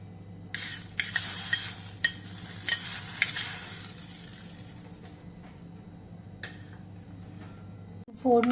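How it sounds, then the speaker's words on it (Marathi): Cumin, mustard seeds and curry leaves sizzle in hot oil for a tempering while being stirred with a metal spoon, with steady frying hiss and scrapes and clinks against the pan, close and moderately loud. "जिरी, मोहरी, कढीपत्ता त्याची फोडणी घालून घेतली आहे"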